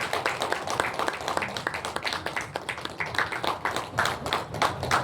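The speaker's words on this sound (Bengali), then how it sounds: "জোরে হাততালি" Audience claps loudly at an anniversary award-giving ceremony, a quick, dense patter of hands that swells and ebbs in uneven waves, with faint voices underneath.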